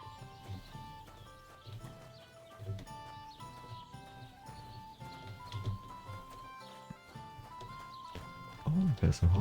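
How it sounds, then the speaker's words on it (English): Horse hooves clip-clopping in the video game Kingdom Come: Deliverance 2, faint steady steps under game music, ending in louder thuds near the end. "Oh, there's a horse here."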